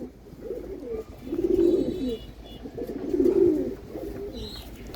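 Domestic pigeons kept at a house coo close by in two soft, rolling phrases, each swelling and fading, alone with no talk and a faint higher chirp near the end.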